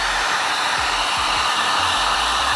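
Heat gun blowing steadily while drying textured paint on a BMW E46 valve cover during a turbo rebuild; a loud, constant airy whoosh with no speech.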